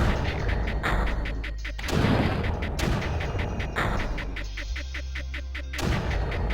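Mortars fire in the strategy game Creeper World, a run of heavy booming thumps and crackling blasts at irregular intervals, loud and close, with layered impacts and no voices.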